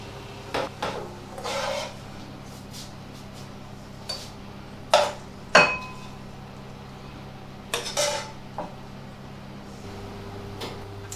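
Soft cooked onion is scraped from a pan into a bowl as a series of sharp metal-on-ceramic clinks and scrapes, irregular and close, with quiet pauses between clusters.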